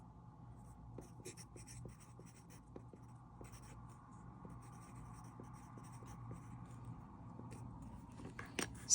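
Pen scratching on a sheet of paper while crochet rounds are marked, a quiet steady scribble of short strokes close by with no talking.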